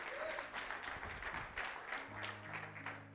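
A church congregation applauds during a Spanish-language sermon, a steady wash of clapping filling the whole moment with a low hum and faint voices underneath.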